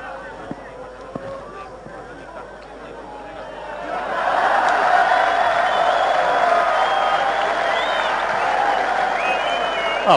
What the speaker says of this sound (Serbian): Aplauzi za vatrogasce.